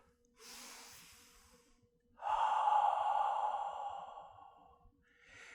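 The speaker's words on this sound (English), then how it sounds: "And let's take a breath." A person draws a deep breath during chair yoga: first a soft airy inhale, then a longer, louder, breathy exhale like a sigh, heard close with nothing else around it.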